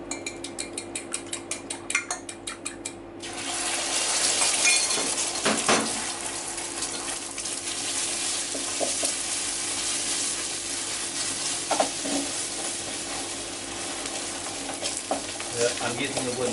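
Food sizzles and fries in a hot, lightly oiled pan, stirred with a wooden spoon, with soft scraping and clinks over a steady close crackle that starts after a few seconds of light tapping.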